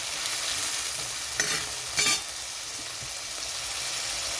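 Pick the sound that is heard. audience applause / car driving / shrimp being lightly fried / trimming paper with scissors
shrimp being lightly fried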